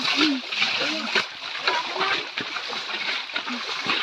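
Water splashes and sprays continuously, like a running shower, while several people talk and laugh over it.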